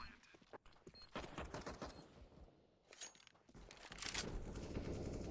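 Rapid bursts of AK rifle fire in a Counter-Strike match at a 2020 DreamHack Masters qualifier, several sharp volleys clustered close together, with a denser sustained stretch near the end and a commentator's voice faintly underneath.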